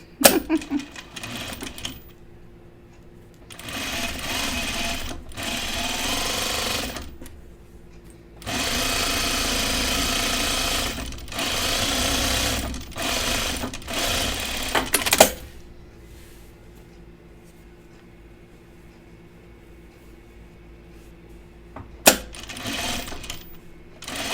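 Sewing machine stitching down a shirt placket in several separate bursts of rapid mechanical whirring, each a few seconds long, split by pauses with soft handling clicks and quieter room sound.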